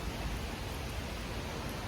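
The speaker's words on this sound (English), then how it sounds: "it's raining" Steady outdoor rain falling in an Israeli city street, a dense even hiss of drops with no breaks, faint and continuous throughout.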